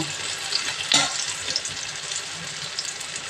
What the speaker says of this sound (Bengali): এমনি করে ভেজে নেব।